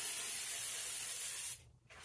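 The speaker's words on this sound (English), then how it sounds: "Before we spray that second can" Aerosol spray can hissing onto engine parts of a 1975 Plymouth Duster's Slant 6, a steady close hiss for about a second and a half, then cutting off.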